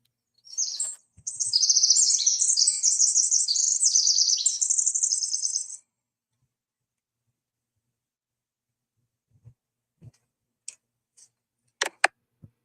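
A bird sings in a quiet backyard, one rapid chirping phrase lasting several seconds, clear and close against near silence, followed by a few faint scattered clicks and ticks.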